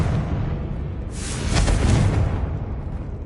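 Fiery blast spell cast in the Hogwarts Legacy game, a broadband burst that swells after the first second and lingers as a dense roar before fading, alone with no talk.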